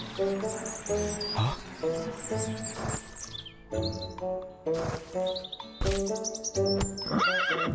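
A cartoon horse neighs and whinnies repeatedly, loud and close, over a busy animated soundtrack with bird chirps and bright music-like tones.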